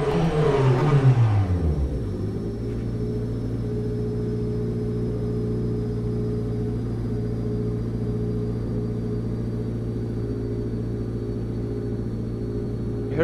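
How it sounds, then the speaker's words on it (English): In rFactor 2, a McLaren 720S GT3's high turbo whine spins down over about two seconds as the car stops at Sebring, then settles into a steady low engine hum to the end. "Listen to the sound of the turbo once I stop the car."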